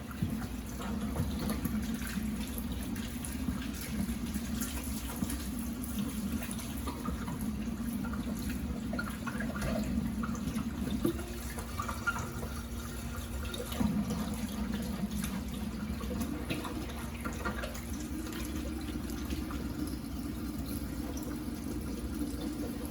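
Lukewarm tap water runs steadily into a sink while a Cricut cutting mat is washed, a faint continuous rushing hiss with light splashing and rubbing, no talking.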